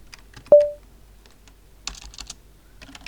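Keystrokes on a computer keyboard: a sharp tone near the start, then a quick burst of several close clicks, followed by a few scattered lighter taps.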